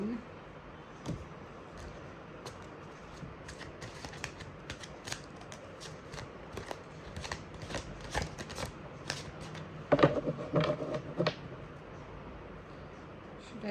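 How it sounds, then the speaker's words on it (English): Tarot cards being shuffled by hand, soft repeated riffling and slapping with a busier burst partway through, quiet and close. "I'm just gonna maybe shuffle it again."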